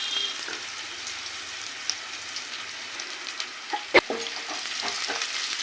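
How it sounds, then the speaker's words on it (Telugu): Food frying in a pan on a home stove, a steady soft sizzle with light crackles and one sharp clink near the middle, no voices. "వేగుతుంది"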